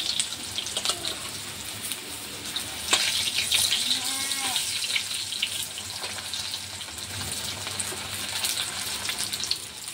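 Raw banana pieces sizzle steadily as they fry in oil in a pan, a faint, continuous crackle with occasional soft clinks and light bubbling.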